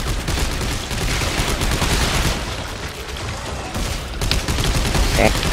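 Sci-fi gunfire from the video game Dead Space 3 rattles in a dense, loud, continuous barrage, and a voice talks over the shooting.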